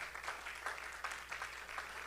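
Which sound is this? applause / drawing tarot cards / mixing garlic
applause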